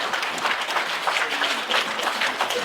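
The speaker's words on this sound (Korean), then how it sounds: "수고한 분들에게 모두 박수로 끝내겠습니다" Seminar audience claps together at the close of a panel discussion, a short burst of moderately loud, even applause from a room of listeners, with some faint voices underneath.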